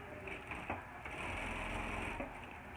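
A sewing machine runs a very narrow 0.5 cm seam through aligned fabric. It makes a steady, close mechanical whir that holds for about three seconds, with a few small knocks from the stitching.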